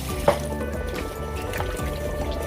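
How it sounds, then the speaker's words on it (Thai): Raw pork being washed with water and salt in a kitchen bowl, giving a steady, close trickle and slosh of liquid with a single brief splash near the start. "ล้างทำความสะอาดก่อนค่ะ ใส่เกลือลงไปล้างเลยนะคะ"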